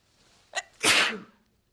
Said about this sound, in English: using your sleeve is a good way to cover your sneeze with smaller risks of contamination